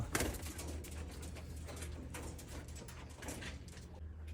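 Golden pigeons coo softly in a breeder's loft, faint low murmuring calls over a rustling background, with occasional shuffles and knocks nearby.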